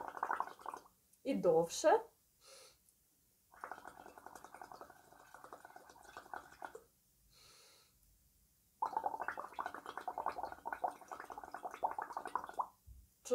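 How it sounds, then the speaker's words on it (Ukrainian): Bubbles blown through a straw into water during a children's music breathing exercise, in several bubbling bursts of a second to four seconds separated by pauses, with a voice speaking briefly near the start. "одночасно зі мною робимо вдих і видихаємо водяними бульбашками"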